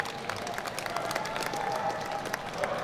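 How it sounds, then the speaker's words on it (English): Crowd applause for timber sports athletes at an outdoor show, a fairly faint, steady patter of clapping from a distance with a few louder claps standing out. "Big round of applause for them"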